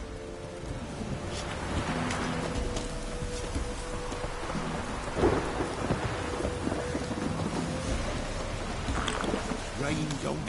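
Steady rain pours throughout while low thunder rumbles, swelling briefly near the middle, with no voices, in the video game The Witcher 3.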